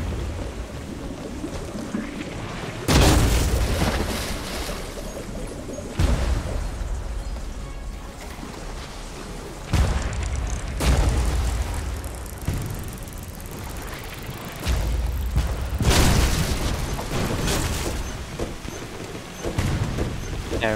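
Cannon fire striking a wooden ship during a Blazing Sails naval battle: a series of loud, booming impacts at irregular intervals, each a broadband burst over a continuous roar of sea and wind.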